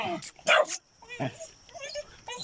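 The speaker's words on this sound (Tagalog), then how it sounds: "mabait yung aso nila" A friendly household dog barks in a short close burst in a Filipino neighborhood near someone gardening, with someone talking before and after and faint higher yips trailing behind.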